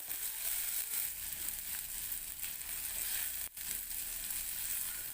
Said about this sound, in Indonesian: masukkan cabai merah dan cabai rawit, tumis kembali hingga cabainya layu